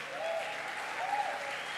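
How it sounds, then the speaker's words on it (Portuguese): A church congregation applauds together, a short burst of steady mixed clapping that fills the room without any speech. "Você pode aplaudir o Senhor por isso?"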